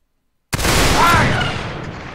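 A volley of musket fire in the game Mount and Blade Warband, a single loud blast from many guns at once that erupts suddenly after silence and rolls on in a thick crackling roar as it slowly fades.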